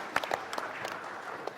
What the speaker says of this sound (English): Let's give a round of applause to her.